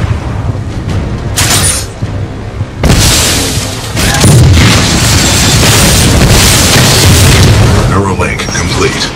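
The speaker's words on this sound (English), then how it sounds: "This shoulder-mounted rocket pod will lock onto multiple enemy targets." Rocket pod explosions from an Acolyte shoulder-mounted launcher in the Titanfall 2 video game, a run of loud, heavy booms and cracking blasts that keep on continuously, with speech mixed in among them.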